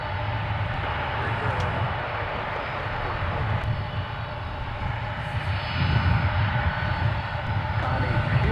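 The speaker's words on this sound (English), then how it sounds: "we're just going to listen to this taxi here" An aircraft taxis at MSP airport with a continuous low engine rumble and whine at a moderate distance, swelling slightly toward the end, while faint radio chatter is heard.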